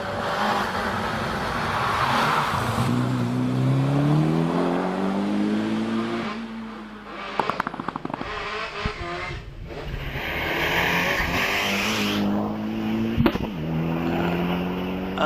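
A Mitsubishi Lancer Evo 3 rally car races up the Prescott hill climb, its engine revving hard with rising and falling pitch through gear changes and corners, loud and close throughout with brief sharp bursts.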